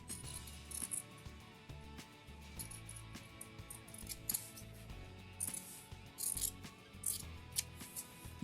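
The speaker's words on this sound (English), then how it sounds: "I'm gonna cut right here." Scissors snipping through fabric for a no-sew quilted pillow cover, a series of quiet, close crisp cuts in uneven rhythm.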